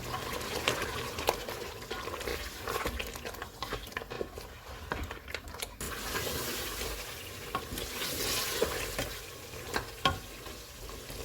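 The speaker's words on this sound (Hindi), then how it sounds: "चार मिनट के बाद इसमें दही, प्याज और काजू का पेस्ट डालेंगे। इसको ऑयल अलग होने तक भूनेंगे।" Mutton korma fries in oil with yogurt, onion and cashew paste, giving a steady crackling sizzle broken by scraping stirs and small spatters, close and continuous without speech.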